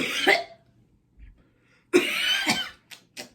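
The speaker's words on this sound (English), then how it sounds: "That was a fake cough." A single deliberate cough, followed by a second forced cough and a couple of short throat sounds, close and fairly loud against silence.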